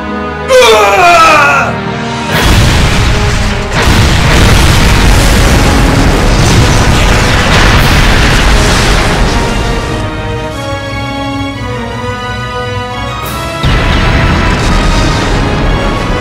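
Loud cannon fire and booming explosions in the video game Trails of Cold Steel, with heavy blasts rolling continuously over a dense battle din, sharp impacts near the start and again toward the end.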